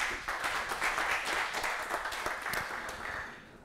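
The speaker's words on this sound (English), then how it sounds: "Let's give a round of applause for Ramón" Brief round of audience applause for a speaker at the BornHack 2017 conference, clapping from a modest crowd that starts abruptly and fades out over a few seconds.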